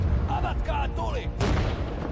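Artillery firing in the Sudden Strike 4 real-time strategy game on a Soviet Mannerheim Line mission, a dull distant boom and rumble heard under someone talking.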